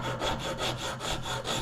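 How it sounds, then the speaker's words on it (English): Hand sanding of a wooden musky jerkbait lure body, quiet rhythmic back-and-forth rasping strokes at about two per second, close and alone. "Okay, so we're going to start sanding."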